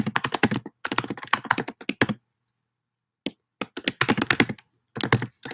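Sharp, close computer keyboard typing comes in quick clustered bursts of clicks separated by short silent pauses, loud and dry with no talking.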